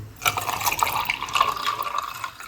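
Milk pours into a glass holding ice, giving a close, steady liquid splash and trickle with faint clinks, and no one speaks.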